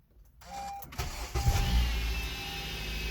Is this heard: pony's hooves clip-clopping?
no